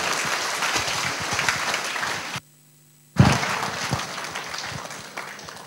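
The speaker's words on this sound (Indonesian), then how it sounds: "sambut dengan gemuruh tepuk tangan yang meriah" Audience applause welcoming Rocky Gerung on stage, dense clapping that cuts out briefly in the middle and then resumes at full strength, with a brief voice.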